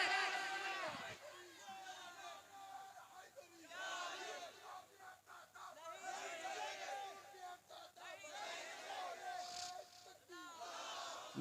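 Large crowd at a Bengali Islamic religious gathering shouting takbir and risalat slogans in call-and-response, loud massed voices rising in repeated waves, led by a single voice and heard at a distance with some reverberation.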